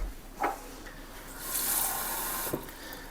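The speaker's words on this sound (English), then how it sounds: "And I think I might add just a little bit of water to this." Water runs briefly into a pan of dessert sauce: a short steady splashing pour in the middle, framed by a couple of soft knocks of the pan or cup, close and fairly quiet.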